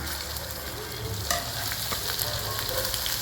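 Red chili powder hitting hot oil for a kala mutton curry, a loud continuous sizzle and crackle with occasional scraping of a spoon in the pan.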